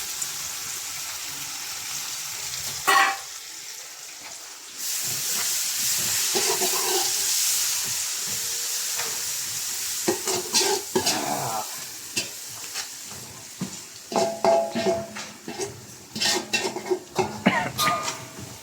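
Mint and coriander sizzle and fry in hot oil for a mutton biryani, with a steady hiss under repeated stirring and scraping of a spoon against the pot, up close and loud, with no talk.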